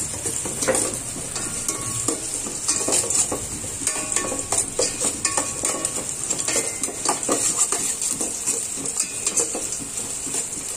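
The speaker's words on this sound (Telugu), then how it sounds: "జీడిపప్పు ఫ్రై అవ్వాలి ఫ్రెండ్స్" Cashew nuts frying in a pan with onion and chilies for veg biryani, a constant loud sizzle overlaid with frequent scraping and clattering of a spoon stirring against the metal, close-up.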